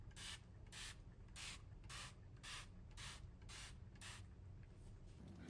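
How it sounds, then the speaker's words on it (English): Eight short, even hissing sprays from a pump bottle of matte makeup setting spray, spaced about half a second apart, close and distinct over a low background hum. "It's time for the Hydro Matte Fixing Spray."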